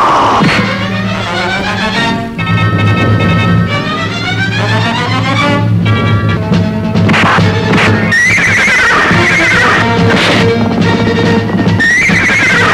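A horse neighs loudly and repeatedly in a 1984 Pakistani Punjabi film scene, the whinnies sustained and layered over a dense, busy soundtrack with no talking.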